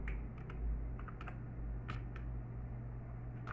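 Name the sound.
typing on a computer keyboard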